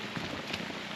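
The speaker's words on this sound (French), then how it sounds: "il a l'air de pleuvoir énormément" Heavy rain in the Amazon hisses as a dense, steady wash of drops on surfaces, close and continuous for a brief second with no voices.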